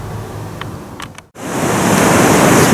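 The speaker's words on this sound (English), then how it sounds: "We have just stopped by the roaring Merced River on our way over to the Ahwahnee Hotel on this Easter Sunday." The Merced River in Yosemite roars in spring full flow, a dense, loud, steady rush of water. A few faint clicks come first, then a brief dropout, then the rushing swells back up close and unbroken.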